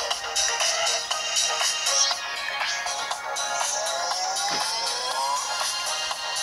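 A telephone rings in a village house in Makhnyovo, Russia, a tonal ringtone running through steady background noise for several seconds.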